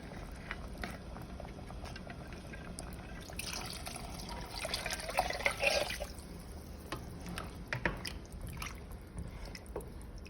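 Water from a can pours into a pot of Thai massaman curry with coconut milk and chicken, a close liquid splashing and trickling that swells in the middle, then fades to faint dribbles.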